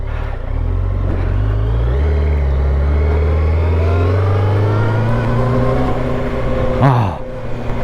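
A Yamaha FZ8 inline-four motorcycle engine revs while riding, with a loud rising drone that climbs through the gears, followed by a sharp blip and a drop in pitch near the end.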